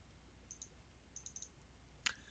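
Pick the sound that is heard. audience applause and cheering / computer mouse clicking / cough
computer mouse clicking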